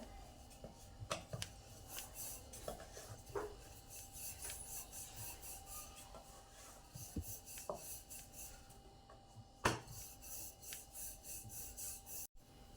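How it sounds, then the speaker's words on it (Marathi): Wheat flour dough being rolled out thin like a chapati with a rolling pin, producing soft repeated rubbing and rasping strokes with occasional light knocks, close and fairly quiet, no talking. "आपण ही चपातीसारखी लाटून घेऊया"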